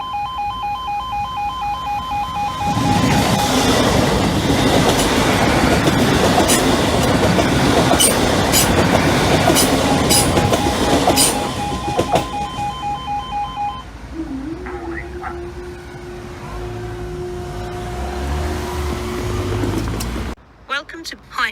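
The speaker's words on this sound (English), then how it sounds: "Warning, another train is approaching." A train rumbles loudly through the Hykeham level crossing for about ten seconds, with rail clatter and crossing alarm tones layered over it, then fades to a quieter hum and a sustained tone before a sudden cut-off.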